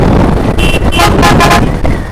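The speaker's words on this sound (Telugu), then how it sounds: "ఒక్కసారి ప్లీజ్ హారన్." A vehicle horn at a group motorcycle ride honks loudly and close, in a few bursts mixed with chatter and general outdoor noise.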